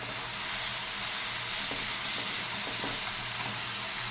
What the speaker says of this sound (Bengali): ভালো করে আমি মশলাটাকে কষিয়ে নেব।